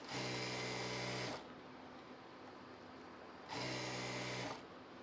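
A sewing machine stitches fabric held taut in two close, loud steady runs, separated by a pause where only a soft motor hum remains.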